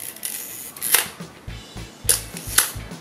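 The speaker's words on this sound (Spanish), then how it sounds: "El sonido del obturador es contundente." A Zeiss Ikon Icarex 35 camera shutter fires at flash sync speed, giving several crisp, close mechanical clacks spaced irregularly, each with a soft winding or lever noise between, alone without talk.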